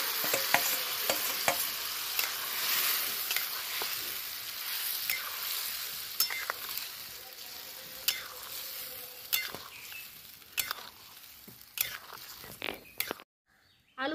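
Spiced, marinated potatoes fry in hot oil tempered with whole garam masala, a continuous bright sizzle with scattered clicks and scrapes of stirring before it cuts off near the end.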